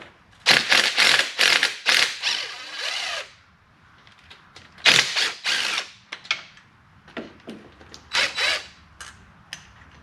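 Bolts on the rocker box of a 2004 Harley-Davidson Road King Twin Cam engine being removed with a power tool, loud close bursts of whirring and ratcheting in several clusters separated by short pauses.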